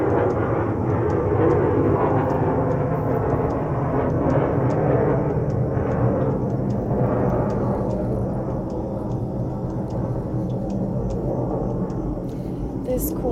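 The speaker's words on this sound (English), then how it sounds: "I'm gonna wait for the airplane." A fixed-wing airplane flies overhead, a steady broad low roar that fills the whole stretch and eases off slightly toward the end, with faint high ticking above it.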